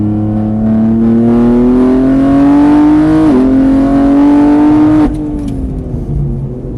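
A car accelerates hard on a track, its engine note climbing steadily in pitch. A quick gear change near the middle is followed by further rise, then the engine lifts off and fades.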